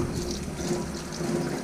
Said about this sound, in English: I'm putting water through there, so when the water comes out through here